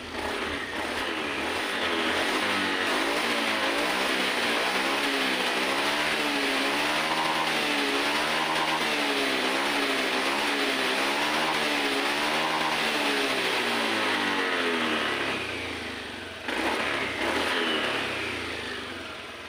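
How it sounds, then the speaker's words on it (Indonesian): A Honda Vario 110 FI scooter engine starts and revs repeatedly, its pitch rising and falling in quick throttle blips over a steady idle, close and loud. "Sekarang kita nyalakan motornya."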